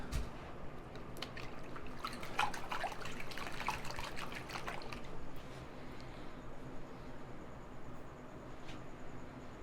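Gold prospecting material is dumped into a tub of water for panning in a home garage, giving a brief burst of splashing and trickling that settles into a steady, soft watery wash.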